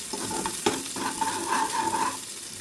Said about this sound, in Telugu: నేను వీడియోలో చూపించినట్లు బాగా ఫ్రై చేయాలండి.